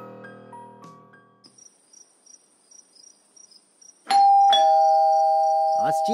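An indoor doorbell rings repeatedly with short chiming bursts, then gives a loud, sustained electronic ring near the end, with voices talking at the start.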